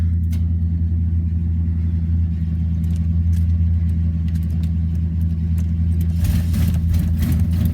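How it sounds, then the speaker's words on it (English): An old Chevy pickup truck engine, long unused, runs at a steady low idle after a cold start, a loud continuous rumble with a brief rise in roughness near the end. "This truck hadn't been started in a long time, so let's see if it'll run."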